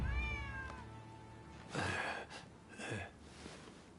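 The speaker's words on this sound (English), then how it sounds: "Who'd have thought a stray cat would wander in?" A stray cat meows in the video game Rise of Ronin, a drawn-out rising-falling cry followed by two shorter, breathy meows, close and clear with no talking.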